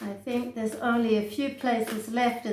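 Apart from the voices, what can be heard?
No everyday noises stand out.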